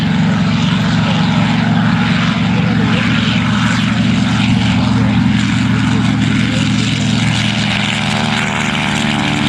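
The P-51 Mustang "Never Miss" flies at an airshow, its piston engine and propeller sending out a loud, sustained droning growl that stays strong and close throughout, with faint crowd or commentary underneath.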